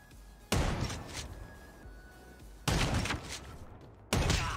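Three loud, sharp shotgun blasts from a Call of Duty Mobile 1v1 duel with the KRM-262 shotgun, spaced a couple of seconds apart, each with a short booming tail over quiet game ambience.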